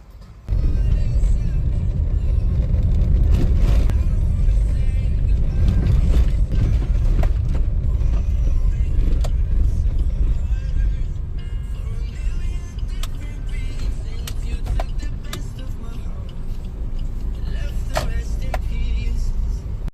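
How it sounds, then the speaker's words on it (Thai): A car drives along with a steady, loud engine and road rumble, with occasional clicks and bumps, easing slightly in the second half. "เราเอารถยนต์ไปนะฮะ"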